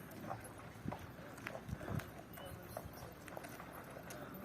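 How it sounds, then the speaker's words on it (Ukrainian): Faint, irregular hoof clip-clops sound at a distance over a murmur of background voices and outdoor noise. "коні не перевелися"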